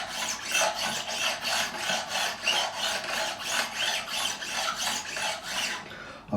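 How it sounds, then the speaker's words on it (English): A metal file levels the frets of a Fender Jim Root Telecaster in close, rhythmic rasping strokes, about a dozen back-and-forth passes at an even pace with no voices. "they're not sold as leveling files, but that is a much smoother cut"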